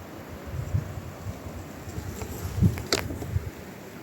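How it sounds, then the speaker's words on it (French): Soft wind rumbles and gusts across an otherwise quiet open space, with a faint rustle and a few brief higher whooshes. "À part le vent, tu n'entends rien."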